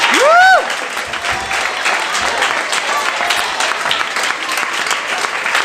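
Audience applause fills a room at a 1999 Kwanzaa celebration and dance performance at a Harlem children's school, a dense steady clatter of many hands that follows a brief rising whistle-like tone at the start.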